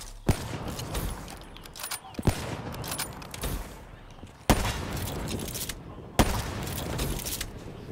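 Gunshots in Call of Duty Black Ops 3 on the Nuketown map: a steady rattle of rapid gunfire with several sharp, louder cracks standing out, continuing throughout.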